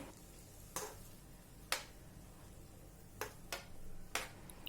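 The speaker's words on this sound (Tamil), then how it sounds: "கார்ன் வந்து ஒரு 2 to 3 minutes அந்த பட்டரில் இன்னும் நல்லா குக் ஆகட்டும்" Sweet corn cooks in butter for a masala sweet corn chaat while a utensil stirs it, leaving a handful of sharp, spaced taps over a faint, low sizzle.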